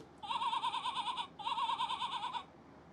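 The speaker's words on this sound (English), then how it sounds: "The sheep goes." Electronic sheep bleat from a Fisher Price See N Say farm toy, two wavering synthesized bleats in quick succession, close and clear with no talking.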